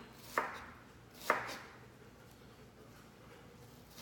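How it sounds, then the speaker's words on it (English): Two sharp knife chops on a cutting board, spaced about a second apart, as food is cut into little squares in a home kitchen; short, close and distinct against a quiet room. "when you turn it and then you cut it, it's already in little squares"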